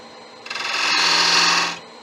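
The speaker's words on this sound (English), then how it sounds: "we're going to put a few accent lines into that. Right, I'll use a point tool for it." A wood lathe spins while a point tool cuts accent lines into a wooden pizza cutter handle, a brief rising scraping whir lasting just over a second, close and fairly loud.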